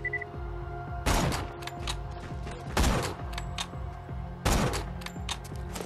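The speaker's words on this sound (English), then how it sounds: "I have a sniper rifle. I'm gonna equip it. Alright, pal. Prepare to be sniped." In the video game Borderlands 2, a sniper rifle fires three loud, sharp cracks spaced about one and a half seconds apart, each with a short echoing tail over steady game background noise.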